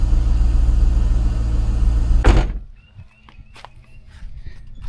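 A C5 Corvette engine idles with a loud, steady low rumble just after start-up, then cuts out abruptly, leaving faint clicks and small knocks.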